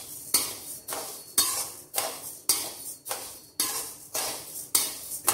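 Chakli flour being stirred and roasted in a pan over a low flame, a spoon scraping the metal in regular strokes roughly every half second, each one a sharp clink that fades into a scrape, close and clear with no talk.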